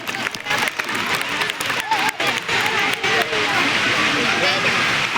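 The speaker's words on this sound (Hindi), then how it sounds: "जोरदार तालियों में इनका इस्तेमाल कीजिए" A crowd applauds to welcome Haji Nihal Ahmad at a gathering with loud, continuous clapping, while a voice speaks over it through a loudspeaker.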